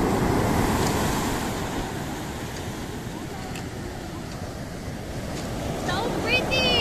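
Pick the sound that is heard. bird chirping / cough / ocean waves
ocean waves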